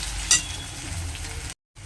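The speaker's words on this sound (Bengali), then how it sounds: "রসুনটা পেঁয়াজের সাথে সামান্য একটু ভেজে নিতে হবে।" Crushed garlic frying with browned onions in a pan, a steady close sizzle with a brief clink of a utensil near the start and a short cut of silence near the end.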